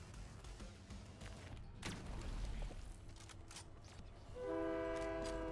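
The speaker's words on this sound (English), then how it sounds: "The train's coming." A train in the Fortnite video game rumbles closer, then its horn sounds loudly in the last second with sustained steady tones over the rolling rail noise.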